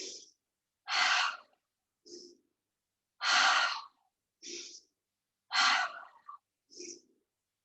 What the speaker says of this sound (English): you're breathing in through the nose,